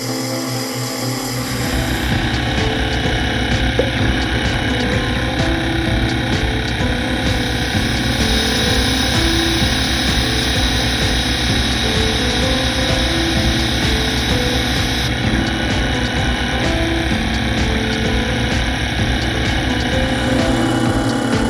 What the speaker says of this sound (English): This is all rough turning with a 55-degree insert.